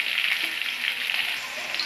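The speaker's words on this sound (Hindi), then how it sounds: "अब इसमें हम जीरा और सौंफ डालेंगे थोड़ा सा। अब मिर्ची डालेंगे।" Chillies hitting hot oil with cumin and fennel for onion pulao, a dense crackling sizzle that holds steady at close range for under two seconds.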